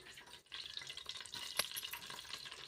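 Green chillies added to hot oil with cinnamon and cloves for a chicken curry give a steady close sizzle and crackle, with a sharp spatter spike partway through.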